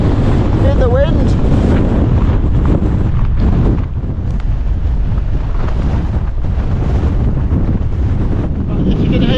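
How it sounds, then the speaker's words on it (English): Strong, continuous wind roars and buffets against the microphone near the summit of Scar Crags in the Lake District, loud and gusty throughout, with a brief voice near the start. "Massively windy."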